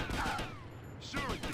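Gunfire from the game GTA Vice City Stories comes as two rapid bursts of shots, one at the start and one near the end, each loud and dense.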